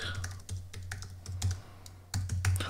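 Fingers type on a computer keyboard to enter a short text message, producing close, crisp keystroke clicks in irregular bursts with brief pauses, over a steady low electrical hum.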